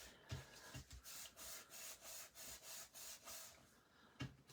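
Paper rubbed firmly down onto adhesive on a folded card, a run of soft, rhythmic back-and-forth strokes up close, quiet and unaccompanied by talk.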